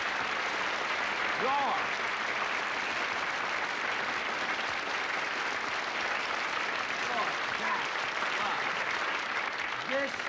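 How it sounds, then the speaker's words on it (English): A television special audience applauds a performer's entrance with steady, loud, dense clapping that fills the whole stretch, while someone speaks briefly over it. "This is the first time I ever got applause just making my way to a seat."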